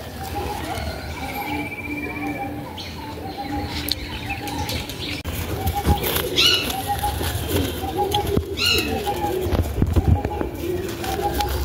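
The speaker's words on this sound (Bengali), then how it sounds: "বন্ধুরা আরেকটা পায়রা এনেছি চটিয়াল" Several Chatiyal pigeons in a loft coo steadily and repeatedly, close by, with soft chirps and occasional wing flaps over a constant background hum.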